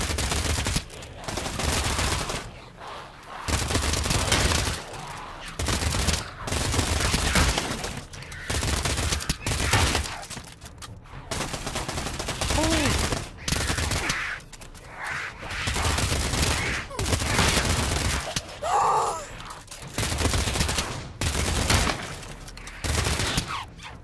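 Rapid bursts of Uzi submachine gun fire in the Pavlov VR zombies game, loud repeated volleys with short gaps across the whole stretch, no talking.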